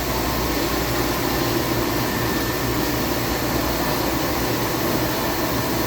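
A Royal Master Gen 5.75 (TG12x3) CNC guidewire centerless grinder runs under power, giving a steady, continuous machine hum and whir with a broad hiss, unchanging and uninterrupted throughout.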